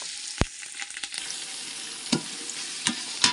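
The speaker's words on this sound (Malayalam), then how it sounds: "അപ്പം നമുക്ക് ഉള്ളി വാട്ടട്ടോ" Onions for a beef masala sauté in an old, many-years-used copper pot over a wood fire, a soft sizzle punctuated by sharp scraping and knocking of a utensil against the metal.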